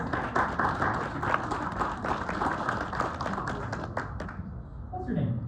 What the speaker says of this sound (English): Can you give her a big round of applause?